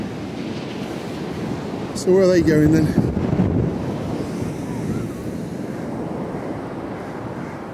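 Sea waves break against a groyne on the coast at Caister-on-Sea, with blustery wind buffeting the microphone in a steady roar and a brief louder gust; a person briefly speaks.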